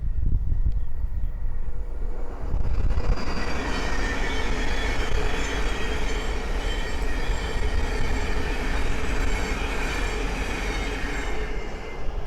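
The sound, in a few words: Thameslink Class 700 train passing, Cambridge to Brighton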